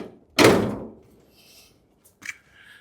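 The door of a 1938 custom Cadillac shuts with one solid, close thunk and a short decay, followed by a lighter metallic click of the latch a moment later.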